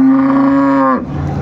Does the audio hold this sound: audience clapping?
no